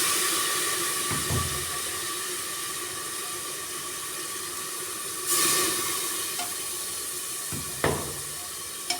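Masala for an aloo baingan sabzi frying in a pan just after water is added, giving a steady sizzling hiss with occasional stirring clatters, fairly close and with no talk.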